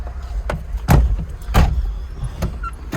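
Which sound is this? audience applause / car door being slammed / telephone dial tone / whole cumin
car door being slammed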